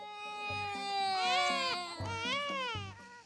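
A small child cries loudly and close by in a pulsing, rhythmic wail, with a rhythmic background sound under it.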